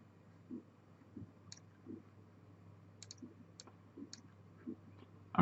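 Several faint, sharp computer mouse clicks spaced irregularly over a quiet room hum, with a louder click at the end.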